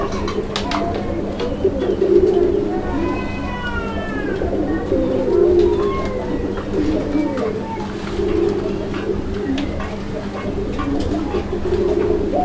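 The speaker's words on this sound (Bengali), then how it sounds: "আমরা একটু ডাকটা শুনি আগে, কারণ অনেকে ডাক শুনে কবুতর পছন্দ করে।" Madrasi golla pigeons coo repeatedly in a steady, rolling rhythm, close by, with a low constant hum and faint voices in the background.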